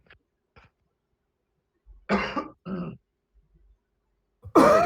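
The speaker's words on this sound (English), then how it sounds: "I just had to cough and clear my throat." A person gives a few short coughs and harsh throat clears, close and in separate bursts with quiet gaps between them, followed by a brief word of speech.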